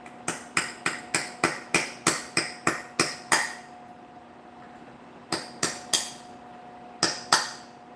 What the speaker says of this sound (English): Let's chisel through the middle.